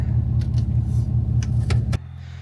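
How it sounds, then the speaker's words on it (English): A 4-cylinder diesel engine on a 16kW generator idles with a steady, loud, throbbing rumble, then drops abruptly to a quieter low hum near the end. "So it's a 4-cylinder diesel."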